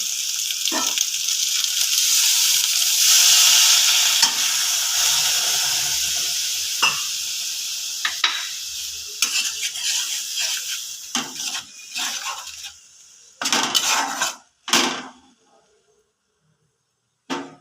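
Bengali spice paste with turmeric and soaked spices fries in a pan with a loud, dense sizzle that slowly fades. Clinks and scrapes of stirring follow, then a few louder knocks before near silence, with no talk.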